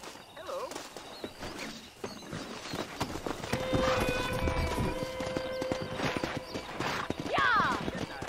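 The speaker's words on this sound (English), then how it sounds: "Let's see if we can't wrangle some horses." Horses trot with brisk clip-clopping hooves in Red Dead Redemption, a whinny rising near the end, over a busy outdoor soundscape with sustained tones.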